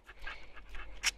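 A dog pants quickly and softly up close, short breathy puffs in a steady rhythm, with one sharper burst near the end.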